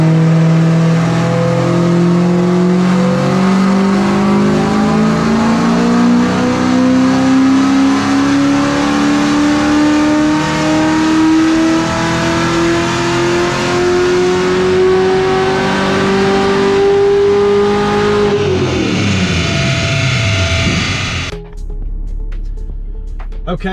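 A pickup fitted with a Magnuson Magnum supercharger revs hard, its engine note climbing steadily for about eighteen seconds with a rising supercharger whine before dropping off sharply, loud and close.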